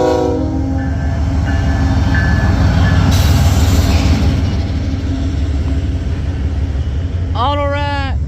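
A freight train with auto rack cars rolls past at close range, a loud continuous rumble of wheels and cars, with a brief horn blast near the end.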